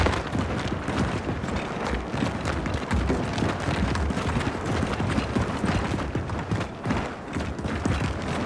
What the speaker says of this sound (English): I just hear a bunch of fucking footsteps.